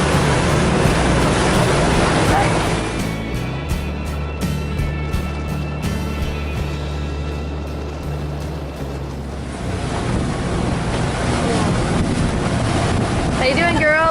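A sailboat motors along past Martinique at sea, with a loud, steady wash of engine, waves and heavy wind buffeting the microphone, easing briefly midway before building again.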